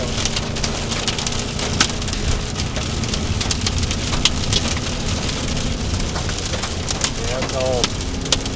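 Heavy rain pounding a vehicle during a Texas storm chase, a dense continuous roar with scattered louder drop impacts, close and steady throughout, with a brief voice near the end.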